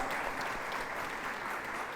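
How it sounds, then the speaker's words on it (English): Steady round of applause from an audience at a St Nirmala convent school function welcoming a guest, dense continuous clapping filling the whole stretch without pause. "let's welcome Mr. Vipin Sharma with a huge round of applause"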